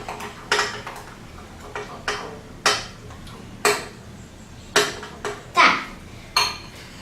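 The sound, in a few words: mixing slime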